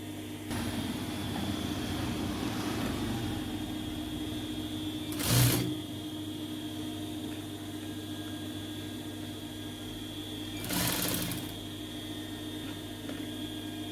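A sewing machine hums steadily and continuously while stitching a decorative sleeve design, a constant mechanical drone broken by two brief louder rattles.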